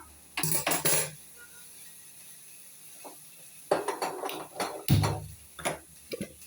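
Cooking pot shifted onto the stove, heard as a few separate metallic clanks and scrapes in short bursts, close and fairly loud with quiet gaps between.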